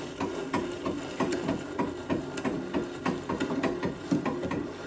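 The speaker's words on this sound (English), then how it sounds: "that will just move back and forth to wind your bobbin" An Elgin treadle sewing machine winds a bobbin with a quick, steady mechanical clatter of repeated ticks and rattles, close and moderately quiet, with no talking.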